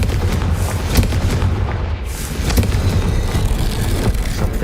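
The Confringo fire spell in Hogwarts Legacy bursts with loud, booming blasts in quick succession, followed by rumbling crackle that continues throughout.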